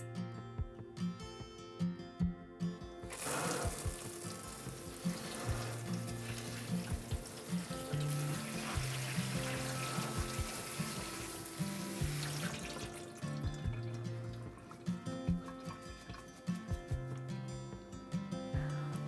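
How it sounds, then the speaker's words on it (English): Freshly harvested blue spruce tips rinsed under a running kitchen tap, a steady stream of water splashing into a sink for several seconds before shutting off, with quiet background music and no talk. "they need a quick rinse"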